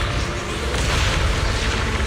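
Continuous booming explosions in the video game Zenless Zone Zero, loud, dense and sustained, with rumbling low-end that never drops away across the short stretch.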